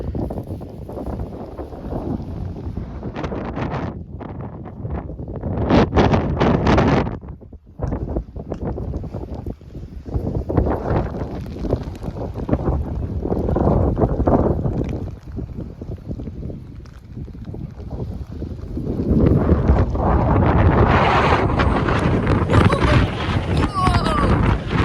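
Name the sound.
strong wind on the South Downs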